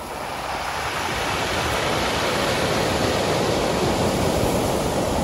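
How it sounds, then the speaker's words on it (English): Water pours steadily off stones in a canyon near the Spanish coast, a loud continuous broadband rush with no breaks and no voices. "The sound of the water that's coming off the stones, it's so relaxing."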